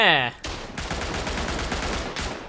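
A World War I machine gun turret firing in the Tannenberg video game: a fast, continuous stream of loud, close shots, preceded by a brief voice.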